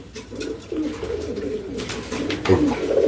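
A Beauty pigeon being handled at a pigeon seller's coos in low, throaty, repeated murmurs close by, along with soft rustling from handling.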